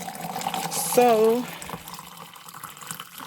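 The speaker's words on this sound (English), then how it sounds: "I like to always pour my water first." Water poured into a tumbler gives a brief gurgling, rising fill sound, close by, alongside a speaking voice.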